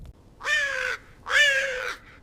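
A raven gives two loud, harsh caws in quick succession, each about half a second long, close and clear with no other sound.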